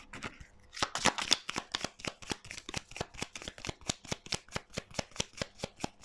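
Oracle cards being shuffled by hand, a fast, even run of crisp riffling flicks close up, repeating steadily for several seconds at a soft level.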